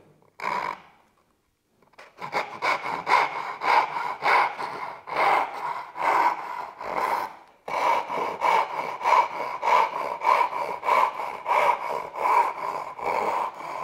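A Japanese hand saw cuts a piece of wood held in a vise, giving close rhythmic rasping strokes after a brief opening scrape and pause, steady and fairly loud, with no talking.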